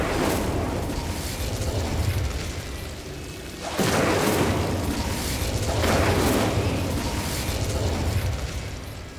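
Explosive Confringo spell blasts in Hogwarts Legacy, heavy booming bursts, one around four seconds and another near six, rolling over a dense, continuous backdrop of combat noise.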